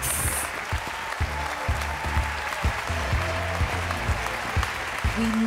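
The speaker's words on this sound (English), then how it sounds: "Give them a big round of applause." Audience applause at the opening show of a music festival, a steady wash of clapping heard beneath rhythmic low musical tones, with both continuing throughout.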